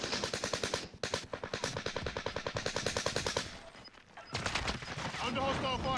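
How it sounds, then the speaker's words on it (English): Automatic weapon fire in the video game Call of Duty: Warzone comes as rapid, evenly spaced bursts that are loud and close, with a brief pause before the shooting starts again. "Under hostile fire."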